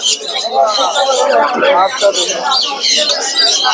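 Caged birds for sale at the Friday bird market in Mirpur 1, Dhaka, squawk and chirp in a dense, busy mix, with people talking loudly nearby throughout.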